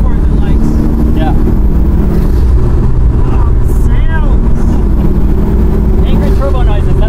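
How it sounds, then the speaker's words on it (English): A turbocharged 1996 Subaru Impreza 22B STi tribute with a carbon fiber widebody, stock turbo on the stock block at 24 pounds of boost: steady loud engine drone with chirping turbo and wastegate sounds between shifts, heard from inside the car, with people talking over it. "Turbo noises, that's what I call it."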